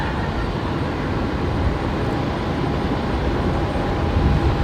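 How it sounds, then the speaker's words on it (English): Jetstar Airbus A321neo airliner touching down at Brisbane Airport, a steady broadband roar of engine and rushing air held at constant loudness, swelling slightly toward the end. "Looks like a Jetstar 321 Neo,"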